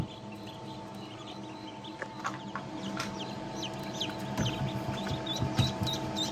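Newly hatched ducklings peep in quick, high, scattered chirps over a steady farmyard hum on a rainy day, with occasional louder calls from nearby fowl.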